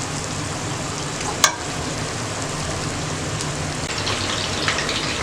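Onions sauté in a pan for minced mutton biryani, producing a steady close sizzle with a brief sharp clatter early on and soft stirring noises, and no voices.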